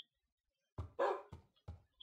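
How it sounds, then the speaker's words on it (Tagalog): Minecraft pet dog barking in-game, three to four short, close yips spaced about half a second apart, clear over otherwise silent background. "Ah, nakita ko yung aso ko ulit."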